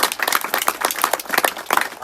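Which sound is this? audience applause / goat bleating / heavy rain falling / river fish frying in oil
audience applause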